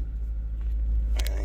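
A small sports car's engine rumbles low and steady close by, a continuous idle drone with a brief rustle or click near the end.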